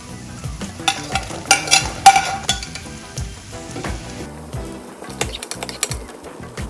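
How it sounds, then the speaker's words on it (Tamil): Chopped onion and garlic sauté in a pan with loud, close sizzling as a spatula stirs, scrapes and knocks against the metal in busy bursts. "வெங்காயம் நல்லா வதங்கிட்டு இருக்கு இப்போவே பூண்டியும் சேர்த்துருங்க"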